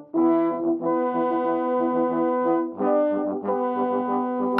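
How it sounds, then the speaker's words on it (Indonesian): A French horn plays a warm, mellow melody of sustained notes with smooth slurs between them, rising and falling in a few legato phrases at moderate volume with no other sounds. "Ini suara trompet Prancis"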